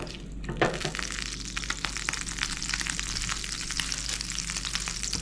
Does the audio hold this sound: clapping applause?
no